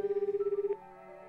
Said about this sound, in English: the phone rang